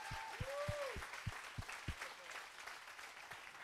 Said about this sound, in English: Come on, clap your hands real strong for me right now.